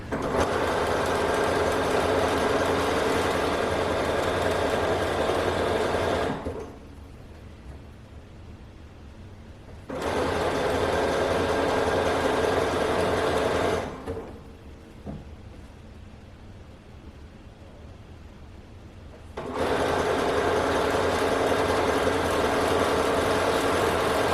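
A sewing machine stitches open-weave lace fabric in three long continuous runs, loud and close, separated by pauses of quieter background.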